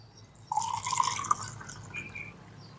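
Liquid from peel-soaked homemade fertilizer poured from a glass into a jar, a splashing, trickling pour that begins abruptly and runs steadily for a couple of seconds before tapering off, close and fairly quiet.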